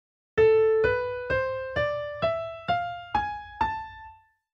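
An A harmonic minor scale played as eight separate ascending notes on a keyboard-like instrument, each struck cleanly and decaying at a steady, even pace, quiet and without any voice.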